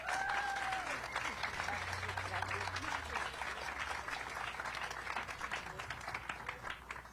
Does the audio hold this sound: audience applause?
yes